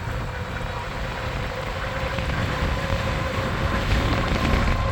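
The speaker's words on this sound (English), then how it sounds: "It's really crazy windy. I'm sure that you can hear it" Strong wind buffeting a rider on a Havoc Xtreme e-bike cruising at around 40 mph, a constant loud broadband roar that swells slightly toward the end, with no clear talk over it.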